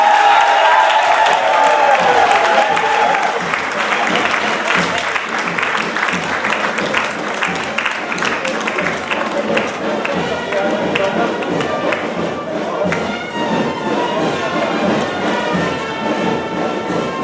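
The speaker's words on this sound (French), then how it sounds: "Veuillez applaudir très très fort la future mariée, s'il vous plaît." A crowd at a civil wedding in Brazzaville applauds the bride with dense, sustained clapping that fills the room for a long stretch, with voices mixed in.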